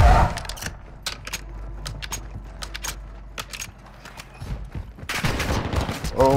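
Gunfire from a Call of Duty Modern Warfare II Warzone match in Building 21: a fast run of sharp, loud shots in rapid bursts, with a dense barrage swelling near the end and a voice speaking briefly.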